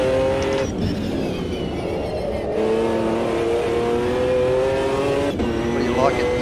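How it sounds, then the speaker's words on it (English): GT1 race car in Automobilista 2 on the Nordschleife, its engine droning steadily and loudly throughout with shifting pitch under gear changes, while people talk over it. "I love the sound of this car"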